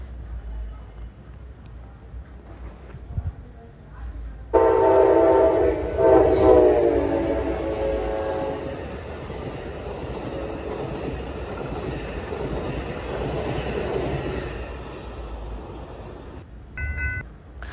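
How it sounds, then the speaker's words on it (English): A train horn blares loudly as a train rumbles past, then fades into a steady rolling roar that trails off into the distance. "The sound of a moving train is an example of the Doppler effect."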